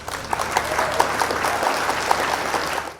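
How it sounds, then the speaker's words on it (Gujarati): Children clap together for the winner of a classroom multiplication race round, a brief burst of close, brisk handclaps that fades out at the end. "ચાલો બધા રાધા માટે તાળીઓ પાડો."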